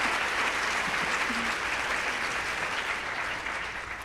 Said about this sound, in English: oh yes, big round of applause.